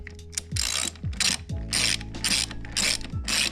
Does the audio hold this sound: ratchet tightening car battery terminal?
yes